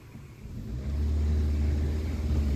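A car engine rumbles low and swells as it revs under load in first gear, the deep drone growing louder and steadier after the first second.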